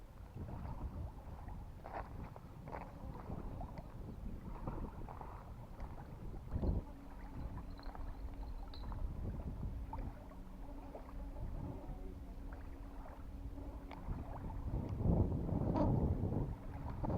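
Strong storm wind rushes and buffets steadily at a lake shore where people are fishing for carp, with low rumbling gusts throughout and no voices.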